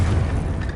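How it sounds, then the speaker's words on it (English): A Confringo spell explosion in the video game Hogwarts Legacy is heard as a brief, dense low rumble that holds steady and then fades slightly, with no talking. "Confringo."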